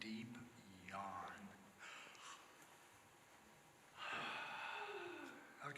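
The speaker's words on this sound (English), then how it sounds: "I'd like everybody to just focus on themselves for just a moment and take a nice, deep yawn" An audience of people at a presentation takes deep yawns, several long breathy inhalations and drawn-out exhales overlapping quietly in a room, with no speech.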